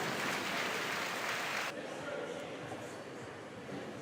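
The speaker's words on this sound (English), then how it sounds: "And we gotta give some claps." Spectators clap for a swimmer at a youth swim meet, a dense wash of applause that drops abruptly in volume partway through and continues more softly.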